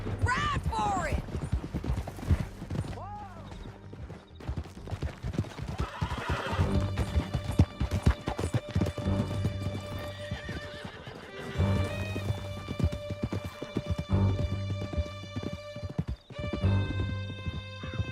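Horses gallop in Red Dead Redemption 2, with rapid hoof clip-clops, whinnies and neighs under game music and character voices, loud and close throughout.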